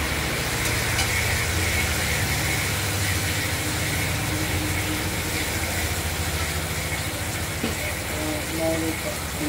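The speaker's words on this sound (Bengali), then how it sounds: "লঙ্কা আর তেজপাতা একটু ধুয়ে দিই" Water runs steadily over chillies and bay leaves being rinsed, a constant close gush and splash that lasts throughout, with a few faint clinks near the end.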